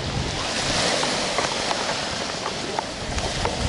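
Wind and surf at a small private beach cove on the Coogee to Clovelly coastal walk in Sydney, a steady roar of waves and gusting wind buffeting the microphone, loud and continuous with no voices.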